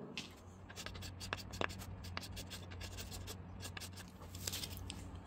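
Sandpaper of 1500 grit rubs over a 3D-printed wheel pattern in steady, close, quiet back-and-forth scratching strokes with no talk.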